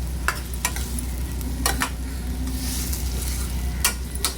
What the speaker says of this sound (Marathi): तोंडली ती कापलेली टाकली.